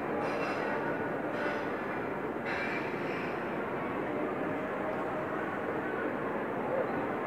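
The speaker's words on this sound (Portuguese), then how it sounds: "O som do trem, do comboio." A train rumbles past near Gare do Oriente station in Lisbon's Parque das Nações, a steady broadband roar that holds loud and close for the whole stretch with no break, heard outdoors in open air.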